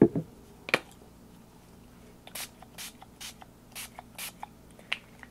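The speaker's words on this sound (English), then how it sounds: "I'm going to use some dilution sprays, and I'm going to use some greens and yellows." Dilution sprays misted onto an art journal page in a quick run of short, soft hissing bursts, fairly faint and with no talking over them.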